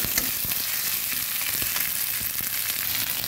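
Ginger and garlic paste fry with a steady, close sizzle in a pan while being stirred, with scattered scraping clicks from the spoon and no talking.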